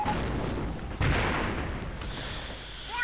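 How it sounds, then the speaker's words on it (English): Mortar fire in a 1v1 strategy war game match, a heavy distant boom with a sharp thump about a second in, over constant dense battle noise and scattered gunfire. "Oh, there's still the mortar."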